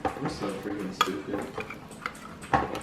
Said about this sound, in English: I'm going to spread it with my spoon here in a minute